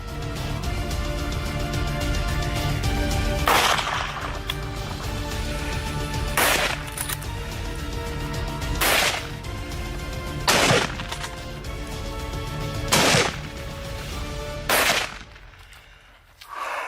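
Rifle shots during a wild boar hunt crack out one at a time, six loud sharp reports spaced a couple of seconds apart over a steady background rumble, with no talking.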